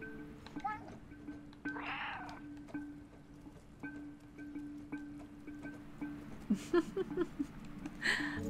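A cat meows in the video game Stray, with a couple of short mid-level calls standing out over a steady ambient background of game sounds.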